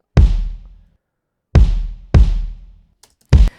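Beefier electronic-style kick drum for a pop ballad, heard alone: four booming low hits with a lingering decay, spaced unevenly, close and loud with no other sounds.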